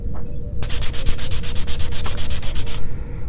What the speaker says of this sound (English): Now I'm using 400 wet and dry grain, and that's helping me take away all that filler